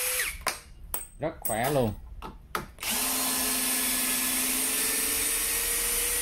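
A SfunPro 16V cordless drill-driver backs screws out. A person speaks briefly among short bursts and clicks, then a loud, steady motor whine runs for several seconds.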